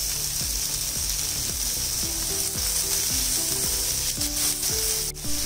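A tomato with a little salt sizzles loudly against browned onion in a pan, a dense hiss underneath a repeating, ratchet-like rhythmic clatter of low tones.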